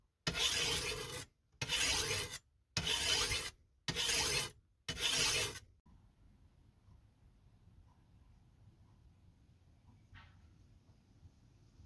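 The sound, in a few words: filing to sharpen a rusty machete blade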